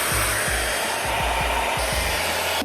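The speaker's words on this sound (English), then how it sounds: "I'm gonna blow dry each section." A hair dryer runs at a constant loud whoosh while drying natural hair in sections with a Revlon brush, and soft low thumps recur about twice a second as the brush moves through.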